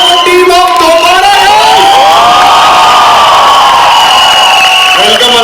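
College crowd cheering, shouting and whooping loudly and continuously at a film promotion event, a dense roar of many voices with rising yells throughout.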